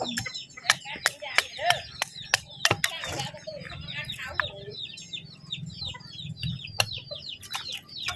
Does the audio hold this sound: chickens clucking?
yes